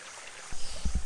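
A jungle waterfall gives a steady rush of falling water, with a few soft low thumps near the end.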